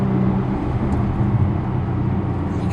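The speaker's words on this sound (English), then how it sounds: "You can hear that little rumble of the exhaust." A Bentley Continental GT W12 sends a steady, low exhaust rumble into the cabin while driving, even and unexaggerated, with no one talking over it.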